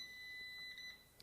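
A PowerXL Vortex air fryer gives a faint, steady electronic beep tone lasting under a second, heard alone in a quiet kitchen.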